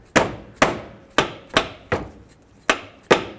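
A rubber mallet gently taps a stuck thermostat housing on a 2001-2007 Toyota Sequoia engine, seven sharp, evenly spaced knocks about half a second apart, close and clear with no talking.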